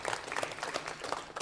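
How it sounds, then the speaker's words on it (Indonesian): Applause from an audience for a quiz team at a competition, a quiet, even patter of many hands clapping at a distance, with no voices over it. "tepuk tangan dulu untuk Regu B"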